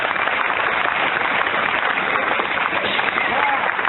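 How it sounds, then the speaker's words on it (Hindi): Audience at a meeting giving loud applause for first-time guests, a dense, unbroken roar of clapping from a sizable crowd, steady and fairly loud throughout. "एक बार इनके सम्मान में जोरदार तालियां बजाएं"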